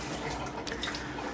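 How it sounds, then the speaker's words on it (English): Ice-cold water pours over a lump of homemade butter, a faint, brief trickling and splashing with small drips. "when we pour our ice cold water over there, that our butter doesn't melt."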